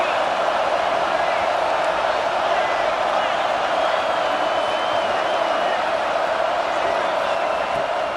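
A college football stadium crowd at Tulane versus Utah roars steadily through a goal-line stand, a dense, continuous wash of cheering that holds at an even level from start to finish.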